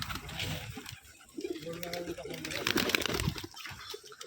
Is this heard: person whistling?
no